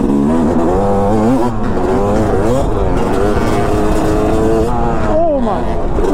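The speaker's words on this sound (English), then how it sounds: "now I am test riding my buddy Matt's, I believe 2013 or something, YZ250" Yamaha YZ250 two-stroke dirt bike, around a 2013 model, ridden hard with a loud, buzzing engine rising and falling through revs and gear changes, close and continuous under wind noise.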